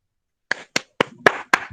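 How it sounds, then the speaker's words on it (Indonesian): Classroom students clap their hands in five sharp, separate claps spaced about a quarter second apart, close and fairly loud, with faint murmuring between them. "Semuanya tepuk tangan."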